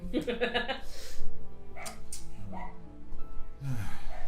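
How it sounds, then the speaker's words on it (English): A dog barks several times in quick bursts up close, with yips and whimpery sounds scattered among voices and background noise. "You made the dog mad."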